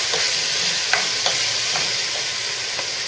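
Sliced Vidalia onions frying and wilting down in a pan over medium heat, a steady soft sizzle throughout with faint occasional stirring clicks, close and alone.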